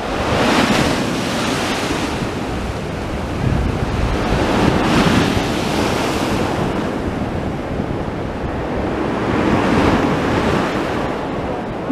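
Sea waves roll in along the Blackpool promenade, a continuous loud wash of surf swelling and fading in slow surges, overlaid with heavy wind buffeting the microphone and no voices.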